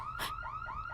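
An alarm sounds in a police station scene from a Hindi-dubbed South Indian action movie. It is a loud, repeating electronic wail that sweeps up in pitch over and over, with a brief noisy burst near the start.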